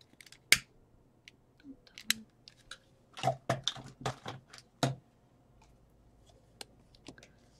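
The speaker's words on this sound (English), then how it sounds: "I'm going to have to cut this one again." Scissors snip through craft string for winter gift tags, giving one sharp close cut and then a quick burst of several crisp snips in a row, with no talk.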